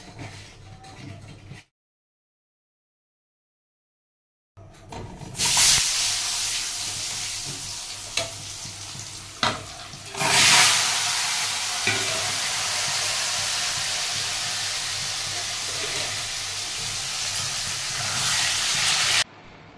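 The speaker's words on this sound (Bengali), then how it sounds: "এবার আলুগুলোকে লাল লাল করে ভেজে নেবো।" Potatoes coated in salt and turmeric fry in hot oil with a loud, continuous hissing sizzle and a few sharp spatters after a brief stretch of silence.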